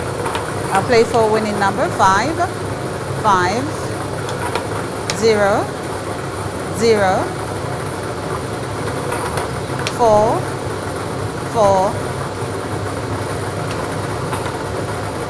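A lottery draw machine churns numbered balls in its mixing chambers, a steady mechanical whir and rumble with intermittent clatter, beneath a presenter's voice talking throughout.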